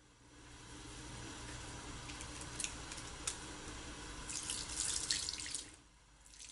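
A running tap rinses soap off hands at a sink, a soft, steady stream of water with brief splashing and dripping, heard close and alone.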